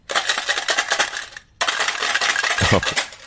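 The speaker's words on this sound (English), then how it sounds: "the people that walk around with these little metal tubes full of coins and tickets" Coins and tickets rattle rapidly inside a metal tube on a Bangkok bus, shaken in quick rhythmic bursts with a brief pause, loud and close.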